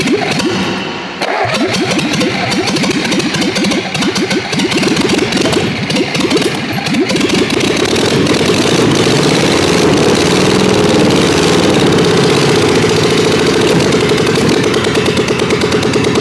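A fire-damaged car engine cranks briefly, catches and then runs loud and rough, a ragged uneven idle that continues without letting up, close to the listener.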